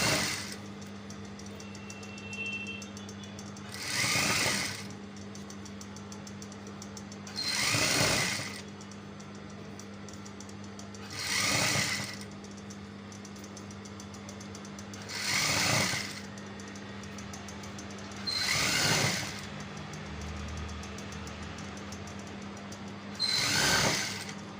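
A sewing machine stitching the lining of a handmade native cap, in six short whirring runs of a few seconds each, spaced evenly apart over a quiet room hum.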